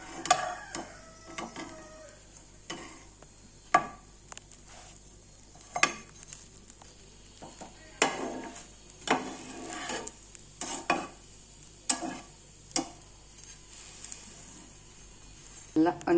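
A bread omelette fries softly in a pan while a spatula repeatedly scrapes and clinks against it in irregular strokes, close and moderately quiet.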